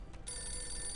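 Telephone in the video game Postal 2 ringing with a bright electronic bell tone that starts abruptly and sustains steadily for the rest of the short moment, no voices.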